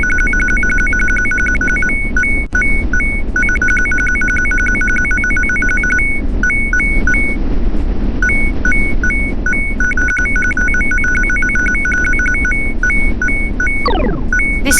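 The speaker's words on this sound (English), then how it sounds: "Good item sound." Bright electronic chime tones repeat in quick patterns over a loud, noisy background: the good item pickup sound from the iOS game Hyper Ship AI, with a descending swoop near the end.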